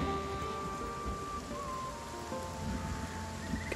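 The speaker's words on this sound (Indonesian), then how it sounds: "Oke, hujan." Steady rain falling in the video game Wartales, a continuous dense patter with faint distant thunder and sustained game music tones underneath, no talking.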